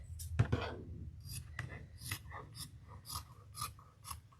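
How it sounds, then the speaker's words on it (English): Fabric scissors cut through material up close, making a quiet series of crisp snips at a steady rhythm of about two per second, with one heavier clatter near the start. "Let's get scissors designed to cut fabric."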